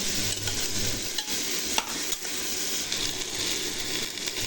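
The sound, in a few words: frying in a pan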